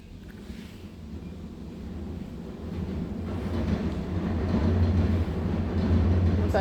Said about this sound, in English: I'm sorry for the train noise.